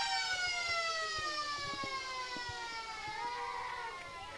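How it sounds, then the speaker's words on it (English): The final siren sounding to end an Australian football match between the Lions and Goannas, a long steady horn-like tone held throughout, with crowd noise faint beneath it. "As the siren goes to end this game."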